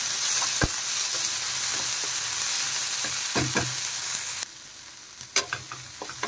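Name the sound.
spices and capsicum frying in pan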